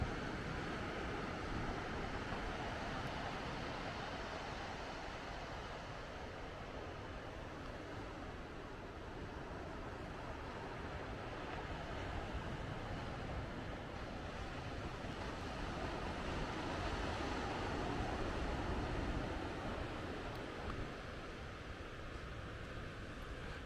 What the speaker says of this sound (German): aber das Meeresrauschen hier oben und vor allen Dingen kein Wind